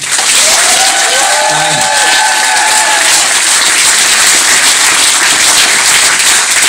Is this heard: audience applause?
yes